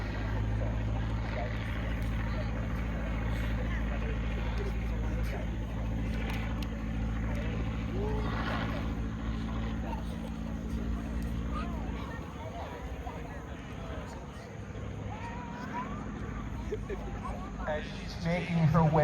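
A Stinson L-5 Sentinel or Fieseler Storch light aircraft piston engine drones steadily at a flying demonstration, its pitch shifting as the throttle is worked back and forth, under continuous commentary.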